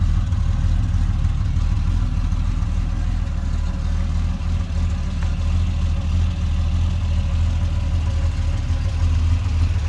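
A Triumph TR6 fitted with triple SU HS6 carburettors idles after a cold start, a steady low, throbbing engine note holding even and continuous throughout with no voices.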